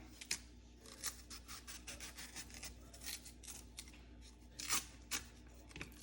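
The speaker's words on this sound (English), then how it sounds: "So technically you take the knife and you cut right on the line." A knife cuts along the ridged lines of a green plantain peel, producing quiet repeated scraping and tearing strokes in quick irregular succession, close up and faint, with no voices.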